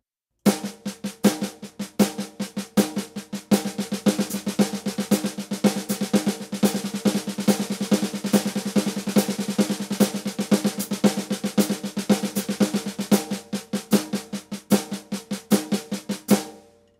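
A drummer plays a steady single paradiddle sticking pattern on snare with hi-hat keeping quarter-note time, fast even strokes running continuously for about sixteen seconds, loud and close.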